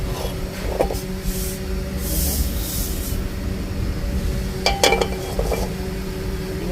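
Finger millet (kurakkan) roasting in a pan for a Sri Lankan multigrain powder: a continuous soft hiss with a low background hum, broken by a few sharp scraping clatters of stirring.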